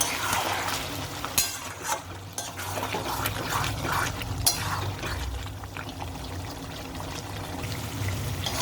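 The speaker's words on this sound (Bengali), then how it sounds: "বেটে রাখা আদা রসুন দিয়ে দিলাম, নুন দেব। এটা একটু ভালো করে কষে নেব।" Mutton being sautéed with ginger-garlic paste and salt in a pan: a steady, dense sizzle with wet stirring and scraping, plus a few louder clanks and knocks against the pot.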